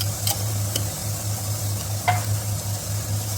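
A spoon stirs pork and bottle gourd seasoned with turmeric and salt in a pan, scraping in a few distinct strokes over a steady low sizzle, close and alone with no talk.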